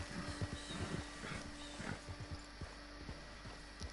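A horse in Red Dead Redemption Online walks with soft, irregular clip-clop hoofbeats, faint and fairly close, over quiet ambient game sound.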